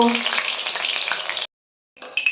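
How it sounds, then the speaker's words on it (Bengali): Pumpkin flower pakoras coated in gram flour batter fry in hot oil, making a loud, bright, close bubbling sizzle that cuts out abruptly into silence, then returns for a moment. "আবারও একটা ফুল নিয়ে এভাবে বেসনে ভালো করে চারি সাইড দিয়ে মেখে তেলের মধ্যে ছেড়ে দেব"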